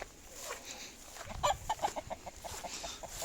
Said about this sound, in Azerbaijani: Çil xoruz.